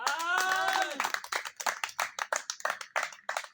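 A church congregation applauding during a Sunday service: after a brief sung or spoken voice, a run of clear, distinct claps builds into a rhythmic, evenly spaced beat, fairly close and loud.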